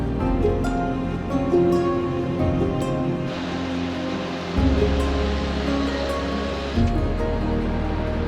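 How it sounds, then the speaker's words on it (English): A Norwegian waterfall roars as a steady broadband rush heard from a distance, mixed with a low vehicle rumble whose pitch shifts partway through, continuous for about eight seconds without speech. "The waterfall, and then you see it."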